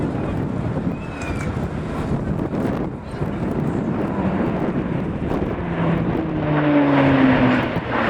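An Airbus A400M transport aircraft flies a display at the RIAT 2016 airshow, a steady low engine drone and rumble heard outdoors under heavy wind buffeting.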